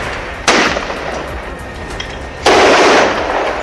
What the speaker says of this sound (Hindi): जैसे ही वो मकान के नजदीक पहुंचे गोलियां चलने लगी